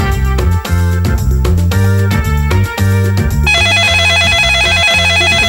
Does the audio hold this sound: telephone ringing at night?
yes